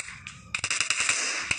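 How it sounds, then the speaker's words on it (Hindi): Gunfire in the PUBG video game, a burst of several sharp shots with a final crack, loud and close over a steady background hiss. "लौंडे ने गोली चलाई."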